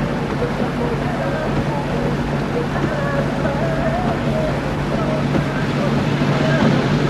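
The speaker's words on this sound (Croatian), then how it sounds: "Ovo je traktor čovjek." A tractor engine hums at a steady low pitch, running continuously throughout and close by, with some wind noise and a voice speaking over it.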